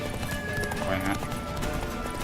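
Galloping horse in the video game The Witcher 3: Wild Hunt, its hooves thudding in a steady, rapid clip-clop rhythm throughout, up close and mixed with voices and game sound.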